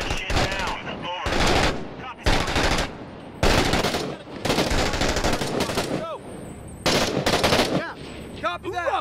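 Loud automatic gunfire from the military shooter game Six Days in Fallujah, set in urban Fallujah, comes in several long, rapid bursts separated by short pauses, with whizzing and ricochet-like sweeps between volleys.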